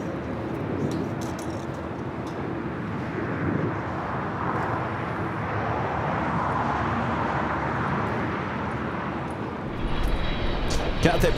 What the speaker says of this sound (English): Sounds like the China Airlines cargo will be taking off on 25 left.